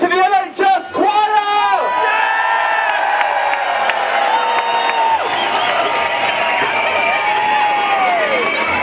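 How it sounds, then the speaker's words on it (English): An outdoor protest crowd at an anti-austerity rally cheers and whoops for an NHS choir, with shouting voices at the start giving way to sustained, loud cheering and scattered clapping, rain-soaked and continuous. "Let's give a massive round of applause to the NHS choir!"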